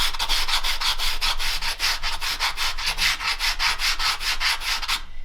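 Leather edges are sanded with 220 grit sandpaper in steady, rapid back-and-forth strokes, a close, loud rasping rub repeated evenly for about five seconds with no talking.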